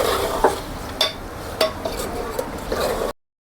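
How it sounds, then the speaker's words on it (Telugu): Chicken stirred in hot oil in a pan during outdoor village cooking, a steady sizzle with irregular metallic clinks and scrapes from a spoon against the pan. "చికెన్ వేసి బాగా తిప్పాలండి."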